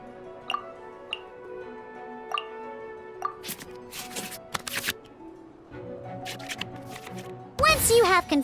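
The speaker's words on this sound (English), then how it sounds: "we can select any number of cards in our hand to shuffle back into the draw pile, and then draw the same number of new cards" Cards being shuffled back into the draw pile in the Genius Invokation TCG video game: a series of soft digital ticks and taps, then a cluster of brushing card-shuffle effects, ending in a bright chiming flourish.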